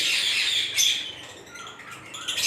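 Lovebirds in a breeding setup, including pale fellow and cremino birds, squawk and chirp in shrill, close bursts, with the loudest calls clustered near the start and end.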